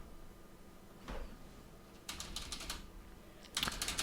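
Computer keyboard keys clatter while someone codes a Unity Firebase chat app: a single tap, then a quick run of keystrokes, and a final short burst. The typing is close and clear, with no voices.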